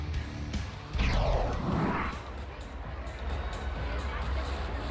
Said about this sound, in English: Another great crowd. The buzz is there.